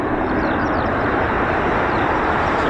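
A Boeing KC-46 tanker aircraft arrives at an RAF airfield with a loud, close, continuous broadband jet engine roar that holds steady throughout, with no voices.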